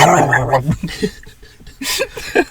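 A person imitates a whimpering dog, giving a close, loud run of short whines and yips with brief breathy pauses.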